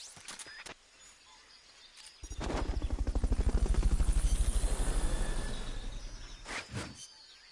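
Helicopter in the video game Metal Gear Solid: Peace Walker, a loud rhythmic rotor chop that swells in and then fades over several seconds, with brief clicks before and after.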